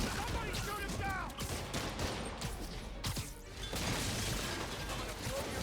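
Gunfire from armed thugs in Marvel's Spider-Man, a dense, continuous battle din of shots and clanking impacts, loud throughout, with voices shouting over the action.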